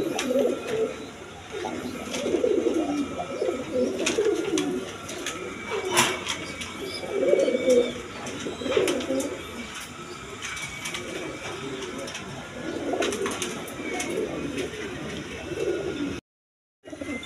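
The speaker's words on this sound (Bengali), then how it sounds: "এইখানে এক পেয়ার আপনার গিরিবাস কবুতর আছে, একবারে হাই ফাই কবুতর, একদম বিগ সাইজের" A pair of big-sized Giribaz pigeons coo in repeated soft, throaty bursts at close range, the calls rising and falling in rhythm over a quiet background, with a brief silent gap near the end.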